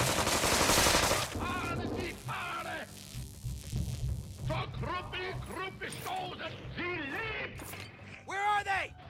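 Gunfire in South Park: The Stick of Truth erupts as a loud, dense burst over the first second, then gives way to game voices talking with scattered clicks and effects.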